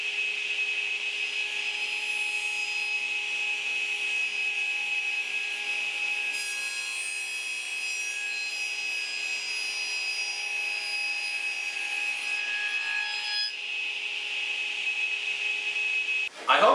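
A radial arm saw raising panels in wood gives a steady high whining cut that runs continuously and close, shifting slightly in tone partway through before ending abruptly.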